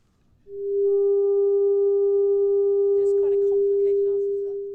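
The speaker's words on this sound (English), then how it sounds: "by using complex ratios instead of simple ones, the noises she creates are nothing like music" A steady synthesized tone with faint higher partials sets up complex, non-musical frequency ratios and holds loud and unbroken for several seconds, while a voice briefly speaks over it near the end.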